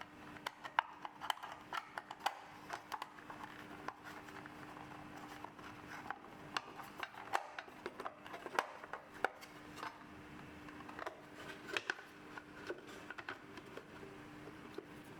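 Small screws being driven in to close the plastic housing of a Biltema band and disc sander, heard as irregular close, light clicks and ticks of a screwdriver working over a steady low hum.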